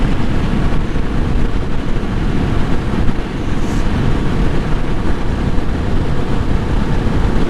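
A Suzuki DR650 motorcycle cruises at around 70 mph, with a loud, steady roar of engine and wind rushing past that runs unbroken throughout.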